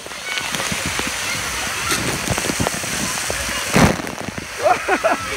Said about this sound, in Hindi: ये यहाँ से ऊपर से पानी गिर रहा